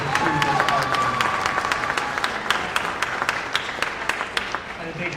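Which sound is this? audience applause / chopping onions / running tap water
audience applause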